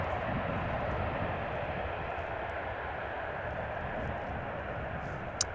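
A KLM airliner landing at Amsterdam Schiphol Airport gives a steady, loud broadband engine roar that holds evenly throughout, with no talk over it.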